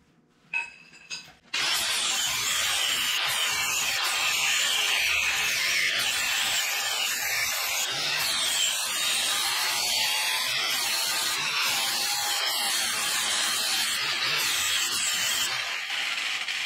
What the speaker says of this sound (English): So I think I need to grind that a little bit and clear it up.